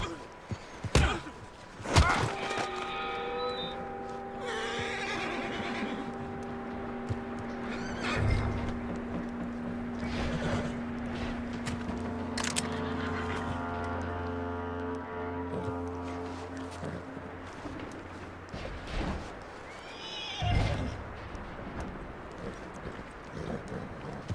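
A horse neighs in the Red Dead Redemption 2 video game, giving a long, close whinny with strong harmonics, followed by snorts and thuds, set among other scattered game sounds and occasional muffled voices.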